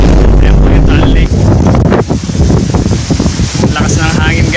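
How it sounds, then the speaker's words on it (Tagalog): Strong wind by Taal Lake buffets the microphone in heavy low rumbling gusts, loud and close, with a few voices faintly heard beneath the roar. "Lakas ng hangin guys."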